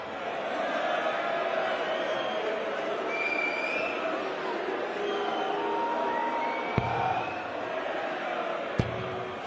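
Darts crowd at the PDC World Championship roaring in support of Gary Anderson, a sustained wash of cheering and whoops with a commentator talking over it and two sharp knocks near the end.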